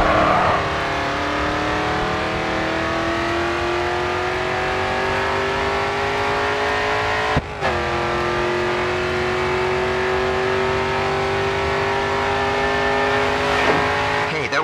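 Racing car in the GRID 2 video game at full throttle on the final straight, a loud sustained engine roar climbing steadily in pitch, with a brief gear-change dip midway and faint tire squeal, no talk.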